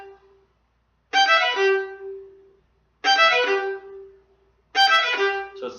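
A violin plays a second violin part, sounding the first beat of each measure as three separate bowed notes with pauses between them. Each note is bright and close, and the notes are evenly spaced.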